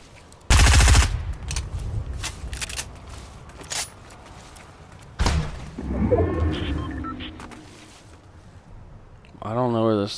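Gunfire in the video game Fortnite, a loud burst at the start, another sharp shot about halfway, and scattered game effects, with someone talking over the action.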